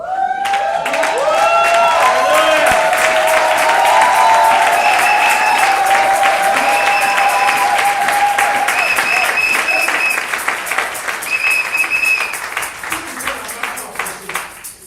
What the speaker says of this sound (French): vous allez vous tenir debout et acclamer le roi d'abord